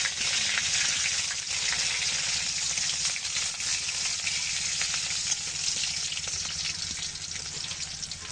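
Onion pieces frying in a hot pan while meat is being cooked, a steady dense sizzle holding loud and even throughout, close by, with no talking.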